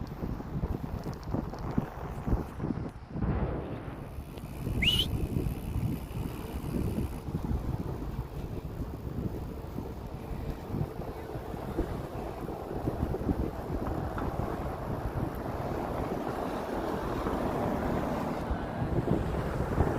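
Strong wind buffets the microphone out on open water during dragon boat paddling training, a steady rough roar with low gusty rumble throughout, with no clear voices.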